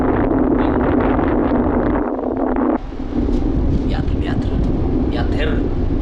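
Wind blasts into a GoPro microphone as a heavy, loud rumble, drops briefly, then returns while a voice speaks over the gusting.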